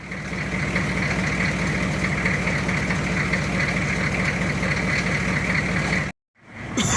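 A 1993 Chevrolet K3500 diesel truck idles steadily to warm up, a loud, even low clatter running unbroken for about six seconds before cutting off abruptly, then faint noise returning.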